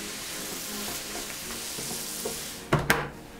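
Pork pilaf ingredients sizzle steadily in a multicooker pot while a utensil stirs them, ending with a couple of louder scraping knocks.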